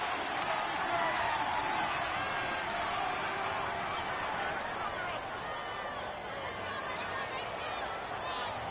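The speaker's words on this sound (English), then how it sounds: "The crowd here in the Dome making things difficult." Stadium crowd noise inside a domed arena during a football game near the goal line, a steady dense roar and babble of many voices filling the space throughout, with no pauses.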